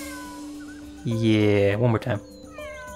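A cat in Suikoden V lets out one loud, drawn-out meow lasting about a second, ending in a couple of short clipped bursts, with a person talking before it.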